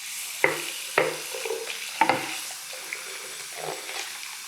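Water splashing at a bathroom sink while shaving soap lathered with a badger brush is rinsed off after an alum-block razor shave; a few sharp close splashes and taps over a soft running-water wash.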